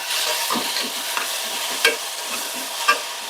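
Onions sautéing with a little garam masala in a pan for a Sunday mutton dish, giving a loud, continuous close sizzle with repeated spatula stirs and two sharper scrapes.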